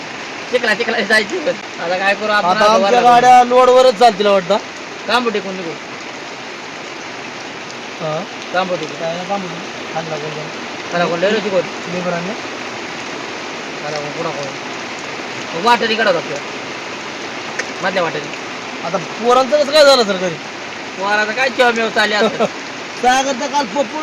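Steady rain falls across open farmland in the countryside, a continuous wash of patter heard close by, with people talking loosely over it throughout.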